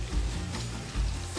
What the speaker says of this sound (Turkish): Yağım kızdı. Soğanları ve patatesleri aynı anda atıyorum.